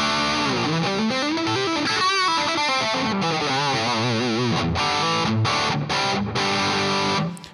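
A distorted electric guitar riff through an ENGL amp with a Shure SM57 mic impulse response, close and dry with a boxy midrange, played continuously with chords and short bursts before stopping near the end.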